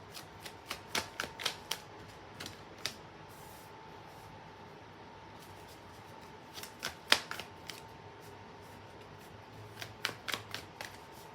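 Astro Matrix tarot cards are shuffled in quick, soft riffling bursts, brief clusters of crisp flicking snaps separated by pauses, close but quiet with no talking.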